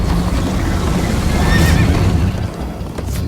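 In the video game Minecraft: Story Mode, a horse neighs loudly with a shaky whinny over the steady drum of galloping hooves and rushing wind noise.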